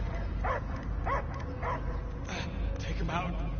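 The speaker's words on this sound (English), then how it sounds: "I hear only barking." A dog in Guardians of the Galaxy gives repeated short barks and yips at a steady rhythm, heard over a constant background hum, with voices mixed in.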